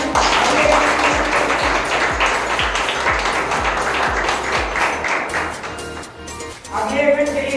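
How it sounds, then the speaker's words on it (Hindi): Applause for schoolgirls at a felicitation ceremony for a school sports and culture competition, a crowd clapping steadily and rhythmically for several seconds before fading out as a voice returns. "इनके लिए जोरदार तालियां।"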